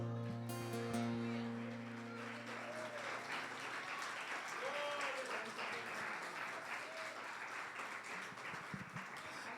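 A church congregation at a Sunday family service claps in sustained, fairly distant applause that fills the room, with a voice and music at the start, then crowd murmur mixed into the clapping.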